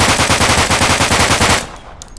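Rapid automatic gunfire from a weapon chambered in .45 ammo in the video game Deadside, a loud steady burst of evenly spaced shots that stops abruptly, leaving a short fading tail.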